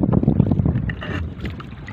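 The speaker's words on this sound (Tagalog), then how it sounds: "Lumalakas na ang hangin" Heavy, strengthening wind rumbles against the microphone over the steady drone of a small handline fishing boat at sea.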